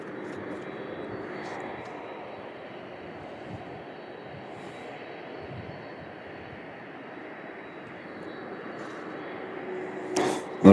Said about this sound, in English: The plane taking off now is UPS flight